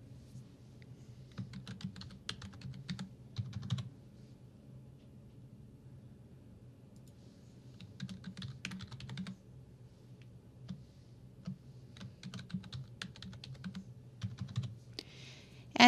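A password being typed on a computer keyboard, with quiet bursts of rapid key clicks separated by pauses, over a low background hum.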